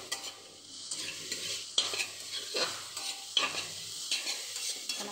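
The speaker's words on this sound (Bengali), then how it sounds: "এখন আমি শাকটা ভালো করে নেড়ে চেড়ে নামিয়ে নেব" Leafy greens stirred in a pan, giving repeated scraping sweeps over a steady close sizzle, with strokes roughly every one to two seconds.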